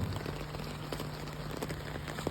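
Light rain pattering steadily on a surface, with scattered distinct drops and a faint constant hum underneath, no speech.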